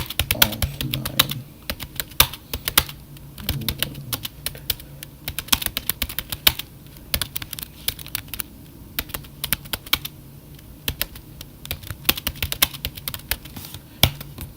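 Rapid, uneven clicking of keys on a computer keyboard continues throughout, close and crisp, with no voices.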